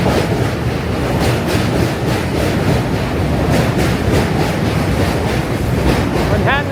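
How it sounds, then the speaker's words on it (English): An M subway train in New York City approaches over the water between Brooklyn and Manhattan, a loud continuous rumble with rhythmic clatter and strong wind buffeting on the microphone. "M train coming in."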